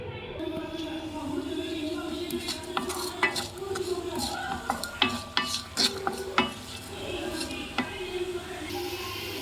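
Onions with bay leaf and salt sautéing in oil in a pan, a soft sizzle under sharp clinks and scrapes of a spoon stirring against the pot.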